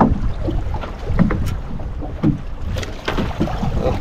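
Sea waves wash and slap against a small fishing boat on growing swells, with gusty wind rumbling across the microphone; continuous, close and fairly loud, no talking.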